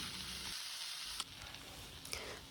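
Chopped fenugreek (methi) leaves fry in a pan for methi matar paneer, a soft continuous sizzle with a couple of light stirring knocks.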